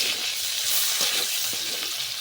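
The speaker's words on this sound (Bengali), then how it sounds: "আমি নেড়ে নেড়ে ভেজে নেব পেঁয়াজটাকে।" Onions fry in oil in a wok, a dense close sizzle with light scraping strokes as they are stirred around.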